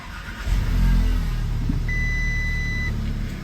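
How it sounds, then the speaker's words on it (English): An Audi car engine cranks and catches, settling into a steady close idle, with a sustained electronic warning chime sounding partway through. "Now let's actually start our car."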